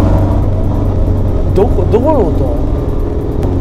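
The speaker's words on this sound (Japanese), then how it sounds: "A86 の 4AG のエンジンの音。 音を、うん、それを再現させてんだ。" Recreated Toyota 4A-G engine note played through the speakers of an electric AE86, a steady low drone that rises into a brief rev around the middle, heard inside the cabin with someone speaking briefly over it.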